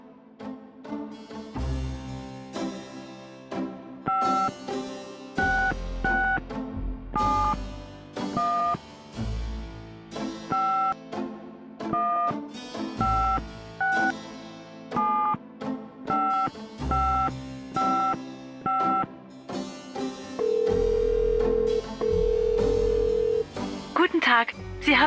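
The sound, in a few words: telephone dialing an international number in Gabriel Knight video game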